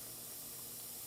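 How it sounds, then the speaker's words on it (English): Aerosol spray paint hisses steadily and continuously onto Warhammer miniatures as a base coat, a close, even spray with no voices. "I'm going to start spraying."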